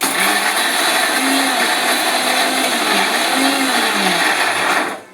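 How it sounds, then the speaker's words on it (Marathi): Mixer grinder dry-grinding a coconut chutney blend of mixed lentils and rice, a loud, close, continuous motor whir with rattling grains that runs steadily and then cuts off at the end. "वाटून घेऊया मिक्सरला. थोडंसं मी आधी कोरडंच फिरवणार आहे"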